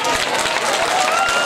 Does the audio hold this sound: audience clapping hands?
yes